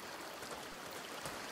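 A river flows in the video game A Plague Tale: Requiem. The water makes a soft, steady rushing and trickling sound, faint and continuous, with no voices.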